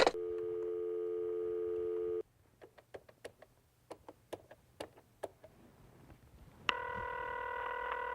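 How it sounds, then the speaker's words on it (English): A telephone busy signal: steady tone blocks at start and end, separated by a run of clicking, dialing ticks, clear and close with no talk. "Dial. It's busy."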